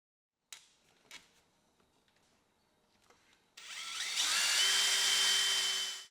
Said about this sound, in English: drilling the vise for the screws that will attach the main mounting bracket